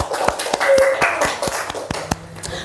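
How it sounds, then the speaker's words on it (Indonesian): Applause from a class of students in an Indonesian classroom lesson, a short burst of sharp overlapping hand claps lasting a couple of seconds, fairly close and loud, with a voice briefly heard near the end. "tepuk tangan untuk Sarah."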